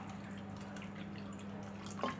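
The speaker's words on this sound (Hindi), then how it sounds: "अब हम इसमें ठंडा पानी डाल लेते हैं।" Cold water poured into lemon juice with ground cumin and chopped lemon for a summer lemonade, a steady close liquid trickle with a low hum beneath, ending in a brief louder splash.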